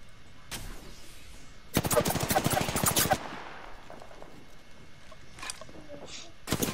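Gunfire in a shooter video game: a short burst, then a long rapid automatic volley of sharp shots, followed by scattered single bursts, loud and close over background game ambience.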